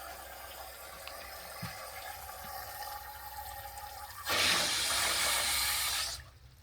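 A restored 1935 H. J. Gill and Co Cardigan toilet cistern, 2 to 2.5 gallons, refills after a flush: a quiet trickle gives way to a loud rushing hiss for about two seconds before it abruptly shuts off.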